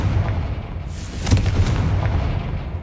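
A Confrigo fire spell blasting in the game Hogwarts Legacy, a single loud booming burst with a sharp crack in the middle over a low rumbling game background.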